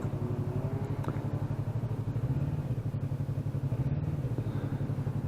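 A small sport motorcycle engine idles with a fast, even, pulsing chug, steady and moderately close, with a slight lift in pace near the end.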